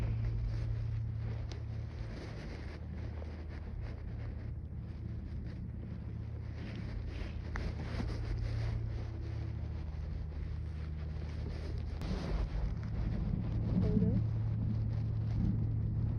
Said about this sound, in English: Can't really tell with the wind no more.